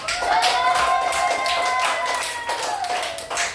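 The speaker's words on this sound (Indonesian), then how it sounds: "kasih tepuk tangan untuk kelompok" A school class applauds a group of students, a brief burst of close, fairly loud hand clapping with a voice talking over it.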